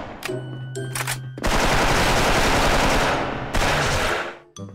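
Automatic fire from the DREAD M4A1 rifle in the online shooter Special Force, a loud, dense sustained burst with a brief pause before a second long burst, preceded by a few short shots.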